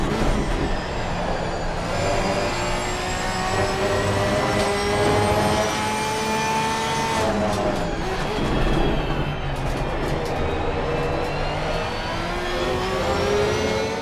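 A Porsche 992 GT3 race car's free-revving flat-six engine in Assetto Corsa Competizione climbs loudly toward 8,000 RPM, its rising whine shifting through gears with a brief dip midway before building again, steady and close.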